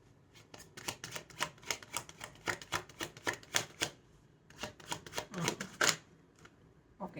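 Tarot cards are shuffled close by during a reading, giving a quick, rhythmic series of crisp riffling and tapping clicks in two main runs with a brief pause between them.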